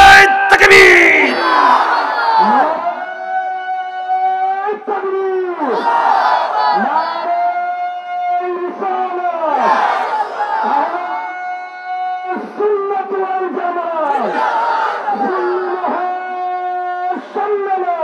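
A crowd at a Ramadan religious gathering in Chunarughat, Habiganj chants Allahu Akbar in repeated loud collective bursts, each call swelling and fading in a steady rhythm, voices close and massed.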